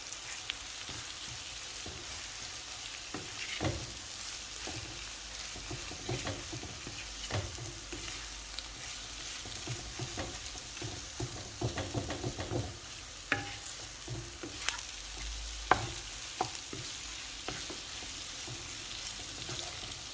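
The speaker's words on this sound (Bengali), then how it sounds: "মাছটা দিয়া সুন্দরভাবে আপনারা মিক্স করে নিবা যাতে মশলাটা ভালোভাবে মাছের সাথে মিক্স হয়ে যায়" Pieces of fish being stirred into a spice masala in a hot pan for a fish chutney, giving a steady sizzling fry with scraping stirs and scattered crackling pops throughout.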